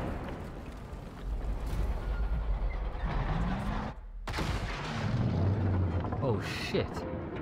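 A tank fires in the World War II shooter Battlefield 5: heavy booming blasts ring out amid a dense wash of battle noise and rumbling, with a player's voice heard over the fighting.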